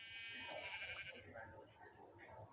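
Sheep bleating in a video game, faint and wavering over a busy layer of game sounds and background noise.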